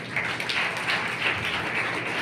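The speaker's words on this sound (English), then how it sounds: "I want a big round of applause to all the successful students" Audience applause for successful students at a school event, a steady dense patter of many hands clapping throughout.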